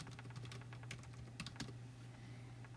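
Quiet, close tapping on a computer keyboard as a short word is typed in, a quick irregular run of soft key clicks over a low steady hum.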